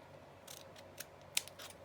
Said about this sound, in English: I would just open it like that and then just cut the slant.